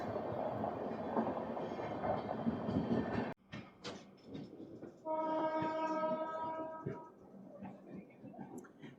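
The Visakhapatnam-Nanded Super Fast Express runs toward Kazipet Junction, heard from on board as a loud, steady rumble that briefly drops out, then a long, bright horn blast sounds over the continuing noise.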